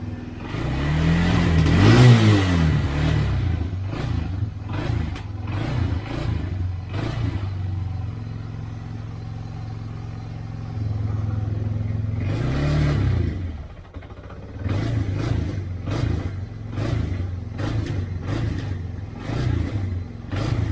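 Yamaha Bear Tracker 250 ATV engine running lean after a carburetor replacement: close mid-pitched idle broken by repeated uneven throttle blips and revs, with rough clattering and a stumbling, inconsistent response.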